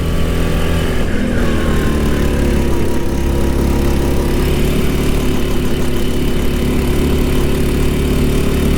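A go-kart engine runs steadily at a karting track in Lahore, a loud, close droning buzz that holds nearly constant, with slight shifts in pitch as the throttle is worked.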